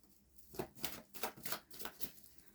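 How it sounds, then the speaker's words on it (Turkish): Tarot cards drawn and handled from a deck, giving a run of soft papery snaps and riffles about four or five in a row at a close, quiet level, with no talking. "Evet iki kart daha çekelim genel enerjiniz için"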